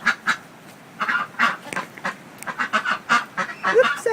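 A duck quacks in quick bursts near a group of chickens in a muddy yard, the calls close and clear, alone.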